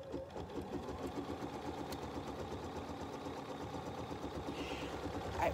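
A BERNINA embroidery machine sews a placement line, a steady rapid mechanical stitching whir with a fast regular rhythm, close up and fairly quiet, running alone without talk.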